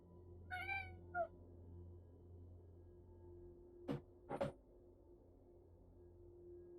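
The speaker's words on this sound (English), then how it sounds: "There's definitely a cat here." A black cat meows indoors, a couple of short faint calls near the start followed by two brief louder calls a few seconds later, over a low steady background hum.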